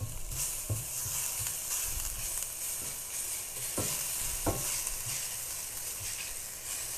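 Freshly ground garlic sizzles in a hot pan, a quiet, even crackling hiss broken by a few soft knocks and scrapes as it is stirred.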